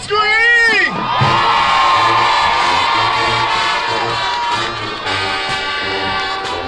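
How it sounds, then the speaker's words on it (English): At a high school Battle of the Bands fieldshow, a big stadium crowd bursts into loud, sustained screaming and cheering that rises sharply, then holds as a dense roar. "everybody, scream!"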